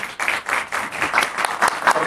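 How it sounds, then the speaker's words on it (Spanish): Audience applause at a forum on preventing sexual violence against women, a few seconds of moderately loud, rhythmic clapping from a seated crowd with no one speaking. "un fuerte aplauso"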